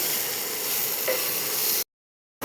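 Onions frying in a pan for a Bengali okra and potato curry, giving a steady, close sizzle for nearly two seconds before cutting to silence, with a brief return of sound at the very end.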